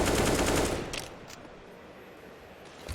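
Rapid automatic gunfire rattles in a Counter-Strike esports match between mousesports and Navi, a loud burst up front that fades into a lower, sustained crackle with a couple of sharp single shots near the end.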